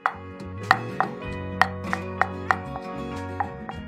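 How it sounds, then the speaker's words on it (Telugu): Peanuts are pounded into a powder with sharp, irregular thuds about every half second that ring briefly against the vessel, with no voice. "ఇంకొంచెం మెత్తగా చేద్దామంటే ఇంకొకసారి దంచుకుందాం"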